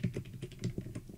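Quick, uneven keystrokes on a computer keyboard, close and fairly soft, a rapid run of distinct clicks with no talk.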